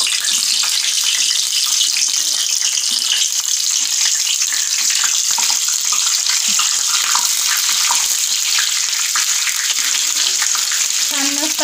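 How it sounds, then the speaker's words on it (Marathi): Green chillies for bhajji sizzle and crackle steadily in hot oil, a dense, continuous close-up frying hiss with no talking over it. "गरम तेलामध्ये मिरच्या टाकायच्या आहे, छान असं तळून घेऊ आपण सगळ्यांमध्ये।"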